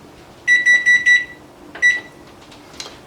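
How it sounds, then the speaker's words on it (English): A kitchen timer goes off during soup cooking, sounding four quick electronic beeps in a row, then a single further beep after a pause, clear and close over quiet room noise. "I think the timer, it's fixing to go off here in just a few seconds"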